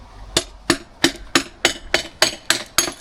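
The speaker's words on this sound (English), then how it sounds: "Why is Alex knocking this wall down?" A regular series of eight sharp hammer blows striking a wall being knocked down, evenly spaced and close, with nothing else going on.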